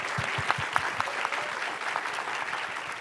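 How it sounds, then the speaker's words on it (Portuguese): An audience at a roundtable on mangroves and education breaks into sustained, moderately close applause, a dense patter of clapping with a few sharper claps throughout. "Palmas para essa galera aí."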